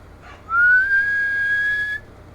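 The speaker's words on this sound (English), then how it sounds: "My whistle in the mic." A person whistles a single rising, sustained note straight into a microphone, loud and close for about a second and a half, with no talking.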